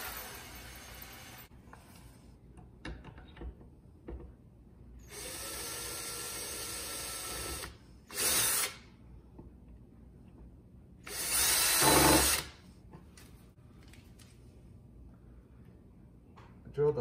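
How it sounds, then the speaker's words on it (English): A power drill bores a hole for a bracket on a broken cabinet door, running in three short bursts, the longest about two seconds, between quieter handling noises and small mechanical ticks. "Drilled the hole in a little bit to draw that bracket across the joint."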